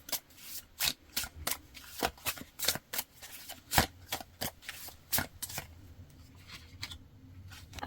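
Tarot cards shuffled by hand in a quiet room, a quick irregular series of crisp riffling snaps and soft slaps, close and fairly faint, thinning out toward the end.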